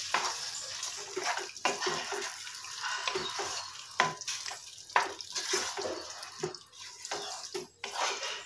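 Potatoes going into a pan with a little water for tomato potato curry: wet sizzling and splashing with intermittent stirring knocks, close and fairly loud, with no talking.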